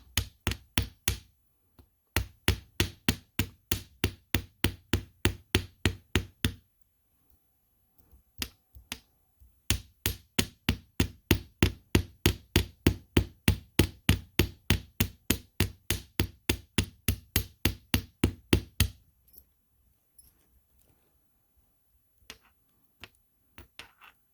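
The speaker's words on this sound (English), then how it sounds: "You might want to turn your sound down because we're going to hammer some more." A small hammer striking metal jewelry links to texture them with little bumps, delivering rapid even bursts of sharp taps, loud and close, broken by brief pauses before resuming and then trailing off into a few scattered knocks.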